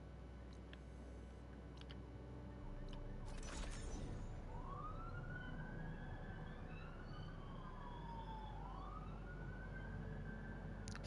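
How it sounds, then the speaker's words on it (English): Police car sirens in the video game Horizon Forbidden West: a wailing siren rises and falls at moderate distance over a constant low engine-like hum, with a brief burst of noise just before it. "Three police cars."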